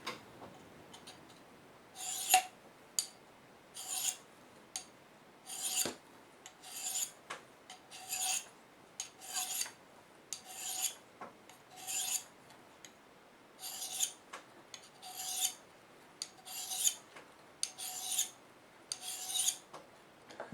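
A knife blade is drawn across a sharpening stone out in the field, making a steady rhythm of close, gritty rasping strokes, each followed by a short pause.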